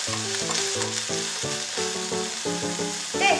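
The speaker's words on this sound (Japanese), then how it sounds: "もう火は通っていますので軽く炒めるだけで大丈夫です" Precooked vegetables lightly stir-fried in a pan, a soft steady hiss and sizzle with a brief scrape near the end, sitting under rhythmic background music, close and even with no voices.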